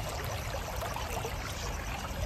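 Water flowing out of a village through a channel makes a steady, close rushing wash throughout a brief stretch, with no voices.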